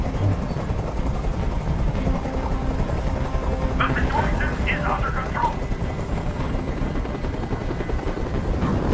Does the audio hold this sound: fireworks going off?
no